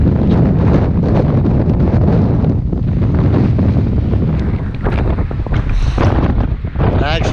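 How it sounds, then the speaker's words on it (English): Strong wind at Mussel Rock beach roars and buffets the microphone continuously, a loud low rumble with gusting surges and faint surf behind it. "At Mussel Rock, still pretty windy."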